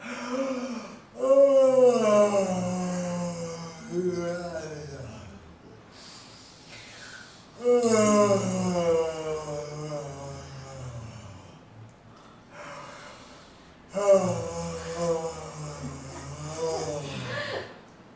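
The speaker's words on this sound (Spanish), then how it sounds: "vamos voluntariamente a bostezar de esta forma" People deliberately yawn as part of a jaw and facial exercise, giving three long, drawn-out voiced yawns with breathy, sighing tails, separated by short pauses.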